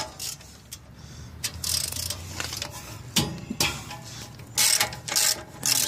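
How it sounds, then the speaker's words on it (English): A hand ratchet breaks loose the brake caliper bolts on a 2003 Toyota 4Runner during a brake job, heard as close, loud bursts of rapid metallic clicking and clunks separated by short pauses. "Breaking loose the caliper bolts."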